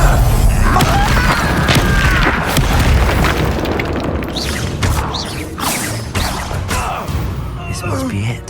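Incendio fire spell from the video game Hogwarts Legacy, cast amid dense, continuous game noise: booming whooshes and bursts layered over music and effects, loud throughout with no quiet gaps.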